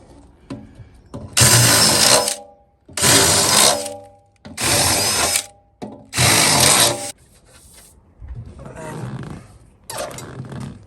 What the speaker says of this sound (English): So I've just got an 11mm drill bit that I'm going to enlarge these holes with.